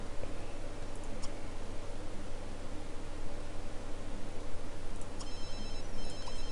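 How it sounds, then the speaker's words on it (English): A phone rings inside The Sims 3 life-simulation game: a repeating electronic ring, loud and steady, over a dense bed of game noise and music, with no talk. "Oh, what's this? I've got a phone."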